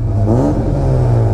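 A Kawasaki ZX10R motorcycle engine revs loud and close, a steady throaty drone that swells slightly, with no one talking.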